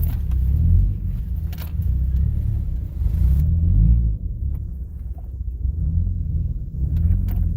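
Toyota Camry stuck in place with its engine running and wheel spinning, a steady low rumble with rising and falling revs throughout, close and continuous with no talk.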